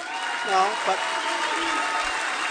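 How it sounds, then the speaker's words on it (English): A rally crowd of supporters applauds steadily throughout, a broad wash of clapping with a voice speaking over it near the start. "No, don't applaud. Don't applaud. Don't applaud."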